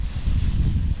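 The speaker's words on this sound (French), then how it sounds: "Le vent est toujours assez soutenu" Strong, steady wind buffets the microphone at a paragliding site at Corent in spring, a continuous low roar with no speech.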